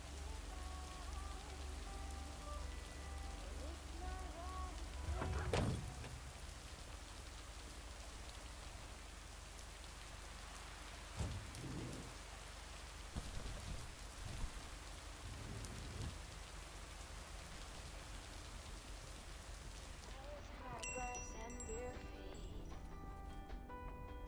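Steady rain falls throughout as a continuous soft hiss, with a few low thuds and a brief clatter of nearby activity near the end; no speech is heard.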